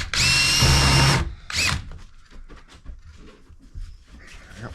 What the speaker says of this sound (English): Drill up through this thing.